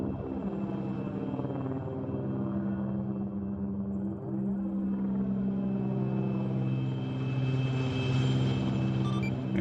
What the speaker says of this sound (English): the helos are fucking moving now